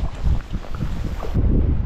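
Steady wind rushes down mountain gullies between glens, heard from a rowboat on open water, a continuous low roar with microphone buffeting that swells and gusts throughout.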